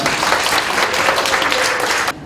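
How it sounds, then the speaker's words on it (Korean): Applause from the audience at a book-launch talk show for a dream-school book, dense steady clapping that carries evenly and loudly before cutting off abruptly at the end. "박수 한번 부탁드립니다."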